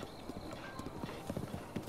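Horse hooves clip-clop at a steady trotting rhythm in the video game The Legend of Zelda: Breath of the Wild, quiet and even, with faint game ambience underneath.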